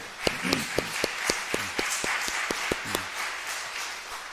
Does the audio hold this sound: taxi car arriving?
no